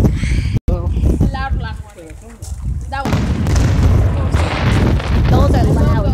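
Booming fireworks explosions, loud and nearby, with a voice talking over them and crackling bursts building toward the end.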